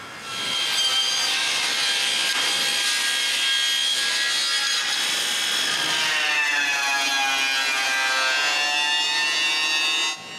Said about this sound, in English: After surfacing and sanding it, I rip it in 3 strips.